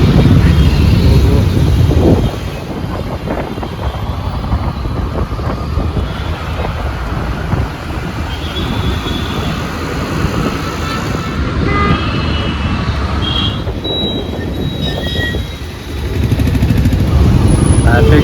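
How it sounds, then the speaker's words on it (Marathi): Heavy road traffic in Hyderabad rumbles past, with engines and motorbikes on a busy street, buffeted by wind on the microphone while a person talks over it. "मजबूत ट्रॅफिक आहे इथे"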